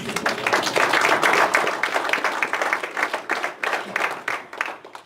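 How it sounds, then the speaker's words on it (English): An audience at a school district accreditation exit meeting applauds in a steady wash of many hands clapping, which rises briefly and then thins out toward the end, with no voices over it. "That's a good time to applaud yourself."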